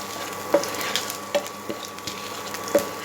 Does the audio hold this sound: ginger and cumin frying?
yes